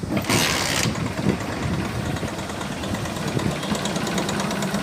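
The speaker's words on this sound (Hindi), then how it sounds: "बाइक स्टार्ट हो गई है।" A motorcycle engine cranks and catches, then settles into a steady, close rumble with an uneven knocking beat.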